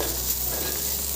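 Food frying in a pan gives a continuous, even sizzle with a low steady hum beneath it, close and unbroken for about a second, no voices present.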